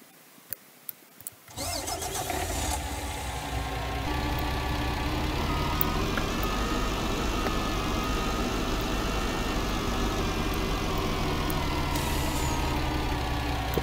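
A semi-trailer tractor's engine in Farming Simulator 19 cranks after a few faint clicks, catches, and settles into a steady, loud idle that runs on evenly with no talking.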